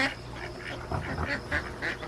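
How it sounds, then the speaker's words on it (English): Ducks quacking in a farmyard at night, with dogs nearby; a run of short, nasal calls repeats at moderate distance over steady background hiss, with no talking. "The ducks, I don't know if you can see them."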